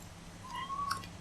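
A cat gives a single short, faint meow over a low background hum, with no one speaking.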